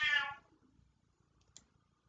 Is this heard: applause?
no